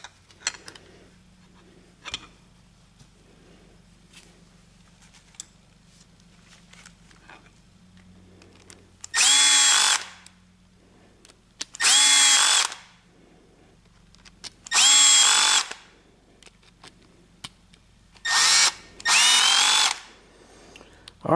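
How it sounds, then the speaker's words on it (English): A power drill on a low setting drives screws into the transmission cover of a self-propelled mower: four loud, close bursts of motor whine, each a second or two long, separated by quiet pauses. "I'm going to get some screws started on the four corners."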